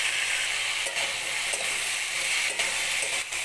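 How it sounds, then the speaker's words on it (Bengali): Winter vegetables for pui metuli chorchori, Malabar spinach stems and greens with salt, fry in a pan while being stirred and mixed. A dense, steady hiss of frying runs throughout, with a few soft stirring scrapes, up close and without speech. "এবার ভালোভাবে মিলিয়ে নেব।"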